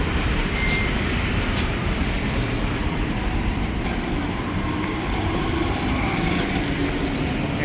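Riding aboard the Bangkok BTS SkyTrain, a steady loud interior rumble of the moving carriage with continuous rolling noise throughout and no talk.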